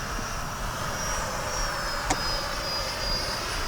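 An FMS Rafale 64mm EDF RC jet flies past, a steady high-pitched ducted-fan whine with a faint airy roar that rises slightly as it passes, heard alone outdoors.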